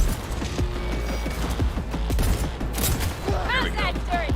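Gunfire from a firefight in Cyberpunk 2077 cracks out in a rapid volley of shots, loud and close, layered over game effects, with a brief voice near the end.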